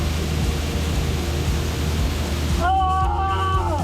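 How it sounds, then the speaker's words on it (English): Dry Falls, a large waterfall in Highlands, North Carolina, roars with a steady, dense broadband rush that fills the whole clip, and a faint tonal voice-like sound enters near the end. "Dry Falls is an easy way to see and get behind a large waterfall"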